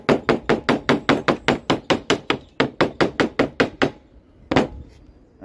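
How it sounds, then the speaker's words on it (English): A hammer taps rapidly and steadily around the holes of a Lister B crankcase door gasket, about twenty close, sharp blows in a quick even rhythm, then a pause and one final strike. "tapping around them with a hammer"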